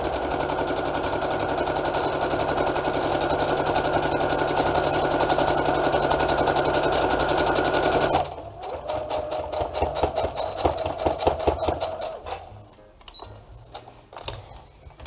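Sewing machine stitching fabric for a 3D face mask, a steady loud whirring run that switches to a stuttering back-and-forth backstitch with fast clicking pulses, then slows and stops.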